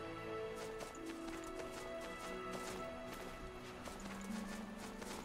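Horse hooves in the video game Death's Gambit clop in a quick steady rhythm under game music, faint and continuous throughout.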